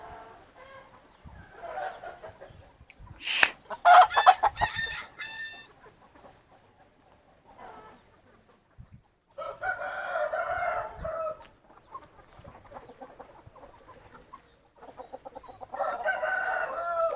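Peruvian cross roosters and hens for sale crow and cluck nearby in several separate bursts, with quieter gaps and scattered clucking between the loud crows.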